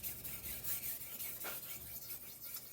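A knife blade is drawn across a sharpening stone in steady, faint, rasping strokes that repeat without pause.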